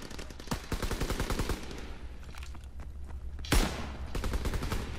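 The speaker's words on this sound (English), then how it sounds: "Let's try the new gun out." Rapid gunfire from a semi-automatic gun in the WW2 video game HardPoint, a quick rhythmic run of shots, a pause, then a single loud close blast followed by more firing.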